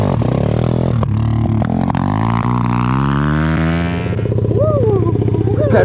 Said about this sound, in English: Petrol dirt bike.